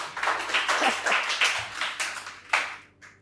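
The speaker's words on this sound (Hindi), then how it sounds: "ताली तो बजाओ, क्या बात।" Audience clapping at a psychiatrist's self-realization talk at a Brahma Kumaris gathering: a burst of scattered, moderately loud hand claps that continues for a few seconds and then tapers off.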